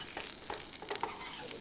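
Sausages and garlic sizzle in a pan at a stealth camping spot, a quiet crackling fry broken by a few small pops and stirring scrapes.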